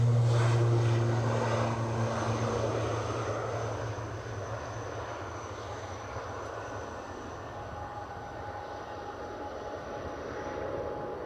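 A Delta airliner passes at Edinburgh airport as a broad engine roar, loudest at the start, then fading to a lower, steady rumble.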